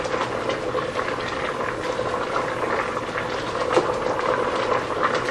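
Pasta boiling vigorously in a pot for a Cajun shrimp pasta, a steady close bubbling and churning of water that runs without pause, with faint stirring movement in the pot.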